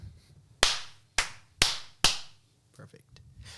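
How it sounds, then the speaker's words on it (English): Four crisp, loud hand claps come at a steady pace, each ringing briefly, followed by softer faint knocks and murmurs as people settle in. "Shall we clappy claps?"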